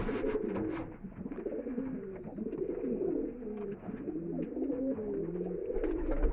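Restless flying pigeons coo in soft, repeated rolling calls nearby, overlapping and continuous against a light background of rustling and faint chirps.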